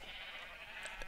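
Sheep in a video game bleating, a short mid-pitched bleat or two, fairly faint with no talking.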